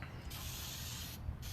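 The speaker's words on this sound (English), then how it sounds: "So you just want to do a little cooking spray." Cooking spray hisses into a baking pan outdoors beside a Big Green Egg grill, a steady close spray lasting about a second over light wind.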